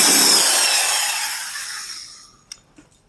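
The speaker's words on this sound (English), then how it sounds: "So Steve, you're going to go ahead and do that drilling, the sawing, right?" A saw cuts through wood for a budget cold frame: a loud, steady rasping stroke that fades away over a couple of seconds, followed by a few faint knocks.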